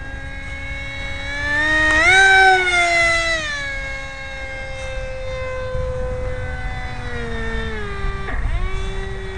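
An F5E RC jet flies at quarter throttle on its first flight, giving a steady whining turbine tone that swells louder for a moment, then eases back and holds a sustained, slightly wavering pitch.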